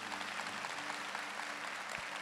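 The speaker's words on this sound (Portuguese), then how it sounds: "Pode aplaudir isso," An audience applauds with dense, steady clapping throughout, moderately loud and filling the room, with no voices standing out.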